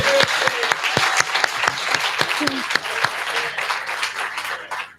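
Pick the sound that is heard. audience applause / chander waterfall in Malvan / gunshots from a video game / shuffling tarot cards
audience applause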